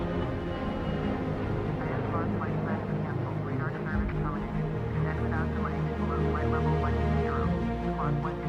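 A steady aircraft engine drone from a Flight Simulator game trailer hums continuously throughout, loud and even, with people talking over it.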